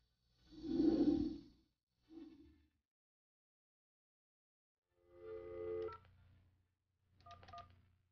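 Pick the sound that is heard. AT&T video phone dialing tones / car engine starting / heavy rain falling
AT&T video phone dialing tones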